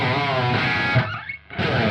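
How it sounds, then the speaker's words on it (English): Distorted electric guitar through a fast single-repeat delay that thickens it like double tracking, a phrase ringing loud before a brief dip and a return to full sound. "Hear how that adds a nice sort of double tracked thickening effect."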